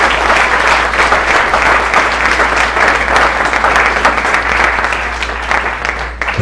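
A church congregation applauds loudly during a worship service, a sustained, dense roar of many hands clapping at once that tapers slightly toward the end.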